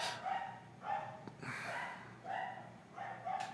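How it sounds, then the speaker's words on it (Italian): A dog barks in a series of four or five sharp, evenly spaced barks at moderate distance, fairly faint, with no talking over them. "Abbaia, abbaia, eh?"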